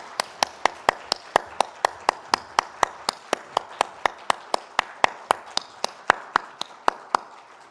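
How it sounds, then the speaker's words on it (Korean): A church congregation at a Sunday service claps in steady, evenly spaced beats, about three claps per second, sharp and distinct with little overlap, with no voices over it. "하나님께 영광의 박수 함께 올려드리겠습니다"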